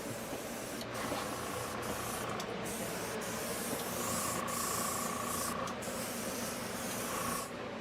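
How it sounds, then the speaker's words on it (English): A makeup airbrush sprays in a steady, continuous hiss with brief pauses and restarts, close and fairly loud, with no talking over it. "This is a little airbrush."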